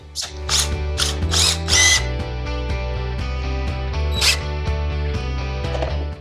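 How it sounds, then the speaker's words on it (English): A power drill widens a bolt hole in a Speed Merchant foot peg on a Harley-Davidson Sportster, giving a loud, steady, close whine that wavers in pitch as it bites, with brief grinding bursts. "we need to wind that hole just a tad bit so we can slide this bolt in and make it fit"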